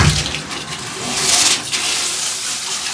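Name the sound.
water filling a bucket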